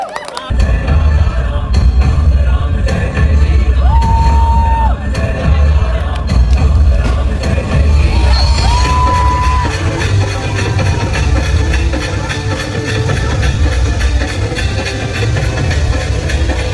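Guests at a wedding ceremony raise a loud, continuous wall of crowd noise with clapping and cheering, broad and steady from start to finish, with a couple of brief whistles rising above the din.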